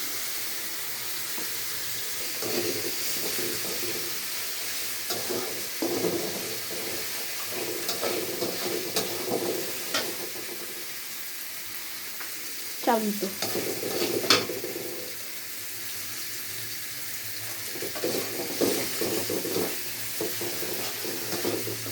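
Homemade garlic paste frying in a pan for a rui fish curry, a soft steady sizzle with occasional stirring clatter and scrapes, fairly quiet and close.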